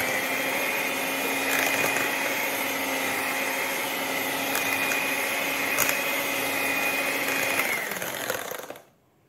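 Electric hand mixer whirring steadily as lemon zest is beaten into batter for a moist traditional Christmas fruit and rum cake, a close, continuous motor drone that cuts off near the end.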